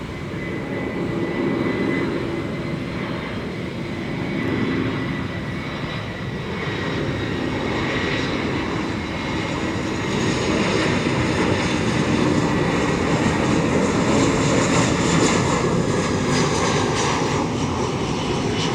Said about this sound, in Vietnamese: mời mọi người chiêm ngưỡng phà hạ cánh của chiếc Airbus A321 của Bamboo Airways hạ cánh xuống sân bay